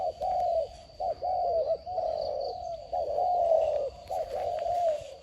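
A decoy spotted dove used for trapping coos in a steady series of low, rounded phrases with short gaps, close and clear over a quiet outdoor background.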